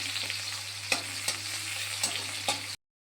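Bitter gourd fries in a wok, a steady close sizzle broken by several sharp scraping stir strokes before it cuts off abruptly.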